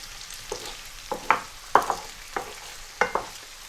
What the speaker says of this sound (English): I've just been stirring this now for about a minute, and I'm just letting the aroma of the garlic come through.